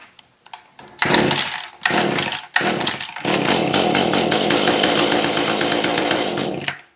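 A Mantis tiller's small two-stroke engine sputters through a few failed pulls, then catches and runs with a loud, raspy, buzzing roar that holds steady before cutting out.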